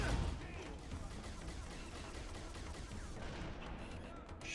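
Rapid gunfire from a Halo video game, a dense, continuous burst of shots filling nearly the whole stretch, with excited voices underneath.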